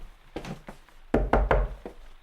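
Knocking on a house door: a few light raps, then a louder cluster of three or four firm knocks close by, with no talking.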